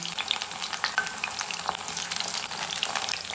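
Cabbage pakoda frying in hot oil gives a steady, close sizzle with continuous crackling and bubbling and small pops throughout, with no voices.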